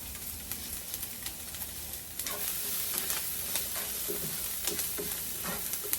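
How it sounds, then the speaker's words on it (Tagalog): Onions sautéing in a pan, a continuous close sizzle with frequent crackles and scraping stirs, busier and louder in the second half. "Ituin natin yung sibuyas hanggat sa lumambot."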